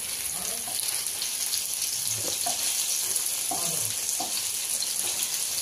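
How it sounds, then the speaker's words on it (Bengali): Paneer fries in a pan with a constant bright hiss and sizzle, while faint voices murmur in the background. "এখনও লাল লাল করে ভেজে নিচ্ছি"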